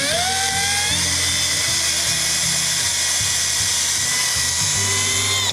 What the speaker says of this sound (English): We're going to drill a pilot hole through it.